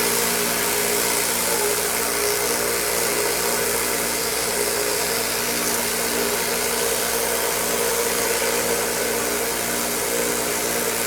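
Rotary rock tumbler loaded with 120/220 grit, turning in a continuous steady hum with a gritty hiss and constant vibration, no breaks throughout.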